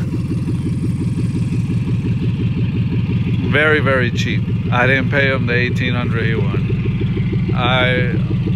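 Loud truck engine idling rough with open exhaust, needing headers and the rest of the system, a steady low rumble throughout with someone talking over it close to the microphone.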